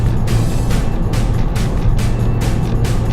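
Audi TT RS with its five-cylinder 2.5-litre engine, heard as a loud, steady motor drone with rhythmic pulsing surges, close and continuous, no talking.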